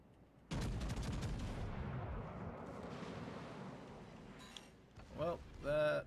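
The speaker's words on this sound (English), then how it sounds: "Well, that was not the salvo we needed" A naval gun salvo booms in the warship game World of Warships Legends, a loud broadband blast that holds and rumbles for several seconds before fading. Short tonal game sounds and brief chatter follow near the end.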